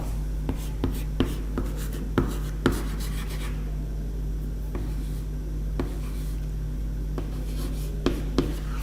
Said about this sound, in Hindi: तो मैं यहां पे सिर्फ इतना लिख दे रहा हूं